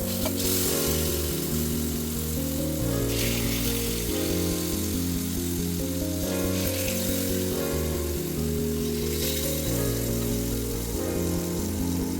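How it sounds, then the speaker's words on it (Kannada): Pomfret fish sizzling in hot coconut oil in a pan, a steady close hiss that continues throughout over a low droning background. "ಕೊಬ್ಬರಿ ಎಣ್ಣೆ ಕಾದ ಮೇಲೆ ಫಿಶ್ ಹಾಕ್ಕೊಳ್ಳಿ"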